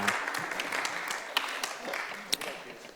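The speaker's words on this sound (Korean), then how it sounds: "야, 박수 박수." Applause from a church congregation, steady and moderately loud, with scattered louder claps and some voices mixed in.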